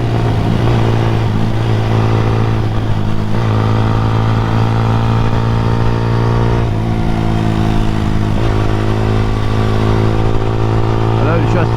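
A Honda CBR125R motorcycle engine running, a loud, steady mid-pitched drone that rises and falls slightly with throttle throughout, heard close up under strong wind and road noise.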